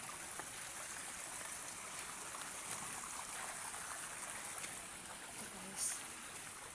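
Stream water flows steadily in a continuous, fairly faint wash along a walking path on the way to a rural resort farm, with only a small bump of another noise near the end.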